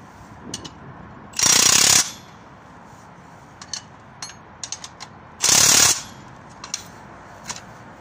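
Bracket bolts being tightened on trailer landing legs, with two loud bursts of rapid ratcheting from a powered wrench, each about half a second long, and light metallic clicks and taps between them.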